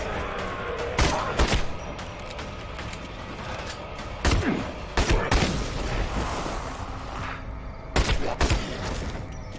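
Gunfire in Evil Dead: The Game, separate loud sharp shots spaced a few seconds apart over a busy layer of game noise, some landing in quick pairs.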